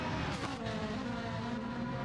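A Mustang race car's engine drones and revs steadily in a Gran Turismo online racing series event, a continuous mid-volume roar with shifting pitch and no talk over it.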